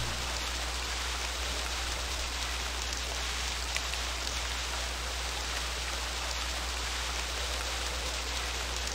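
Steady rain falls in the video game realMyst, a dense, even hiss of drops on surfaces over a low constant rumble, moderately loud and unbroken with no voices.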